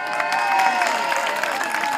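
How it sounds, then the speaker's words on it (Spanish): Outdoor crowd applause at a Eucharistic festival in a park as a statue of Our Lady of Hope is carried in: a dense, continuous wash of many hands clapping, steady and fairly loud, with a faint murmur of voices. "Aplaudimos todos, Nuestra Señora."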